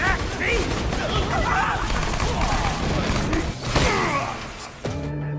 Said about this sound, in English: So laser guns are in and of themselves an entire weapon type.